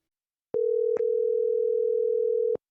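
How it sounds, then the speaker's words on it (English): A voicemail system's recording tone: a single steady electronic beep held for about two seconds, loud and clean, with a faint click partway through and a click at its start and end, no voices. "At the tone, please record your message"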